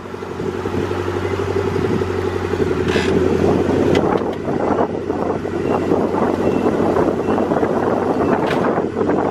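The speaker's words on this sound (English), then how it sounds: "The exhaust opened up again, the clamp came off." A turbocharged Honda Integra with a B20V engine rumbles steadily with a rough, blatting drone from an exhaust whose clamp came off, buffeted by wind noise, continuous and fairly loud throughout.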